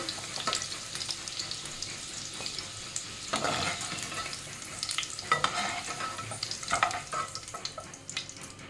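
Potatoes frying in oil for a Bengali fish roe curry, a continuous sizzle broken by bursts of spatula stirring and scraping against the pan, with faint water-like splashes in between and no voices.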